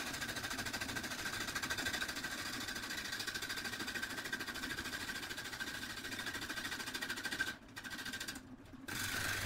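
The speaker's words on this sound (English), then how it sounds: "So at this point I've got the lathe running relatively slow, probably around 300 RPMs or so." Wood lathe spinning an ash bowl blank at a slow speed of around 300 RPM, a steady droning hum with rhythmic vibration that runs continuously before briefly dipping near the end.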